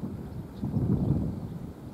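Cool wind blowing across an open field beside a school, a steady low rumbling buffet of gusts against the microphone with no voices.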